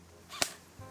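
A single sharp crack rings out, like a distant gunshot or cap gun, standing alone against a faint steady hum.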